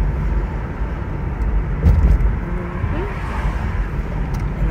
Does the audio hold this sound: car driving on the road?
yes